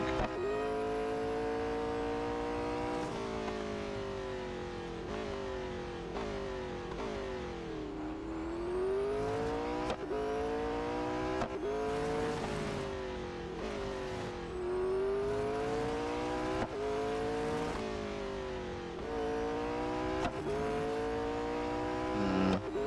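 A McLaren Speedtail race car revs and shifts through gears in Real Racing 3, engine pitch climbing and dropping repeatedly with steady loud roar throughout, no talking.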